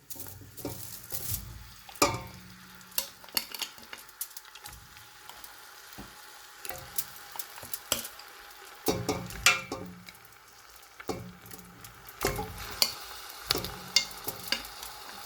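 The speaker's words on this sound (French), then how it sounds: "on a mis de l'huile d'olive, on a rajouté les oignons, on va rajouter la viande" Chicken meat and onions fry in olive oil, a soft sizzle broken by frequent scraping and stirring knocks of a utensil against the pot, close and moderate in level, with several quieter pauses and no speech.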